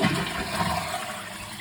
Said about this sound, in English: I've already given it one flush, so I know she's alright, but I'll give it a few whilst everything's out and you can see everything.